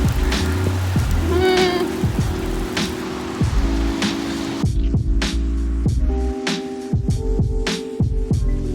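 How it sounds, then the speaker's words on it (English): Heavy rain falling outdoors in Budapest near Heroes Square: a constant hiss of rain on surfaces with scattered sharper drops and knocks, fairly loud, with a faint hum and a brief passing sound in the background. "wow, it is really raining"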